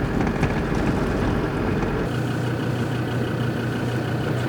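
A camper van engine rumbles low and steady while driving at night on a road trip toward Morocco, a constant droning hum with road and wind noise and no voices.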